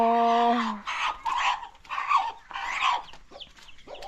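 Chickens cluck in a Lao village yard, starting with a sharp tonal squawk and followed by a run of close, uneven clucks and calls with no one talking.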